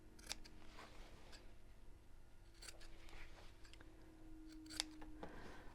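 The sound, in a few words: scissors snipping corners of fabric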